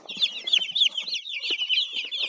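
Newly hatched chicks crowded in a box peep constantly in high, overlapping chirps, close and fairly loud, with no voices over them.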